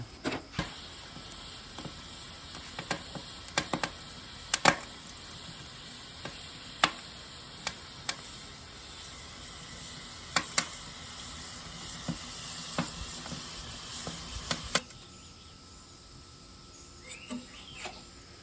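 Oklahoma onion burgers fry on a griddle under piles of onions with a steady close sizzle. Sharp scrapes and clicks from a spatula break in now and then, and the frying grows quieter near the end. No one talks.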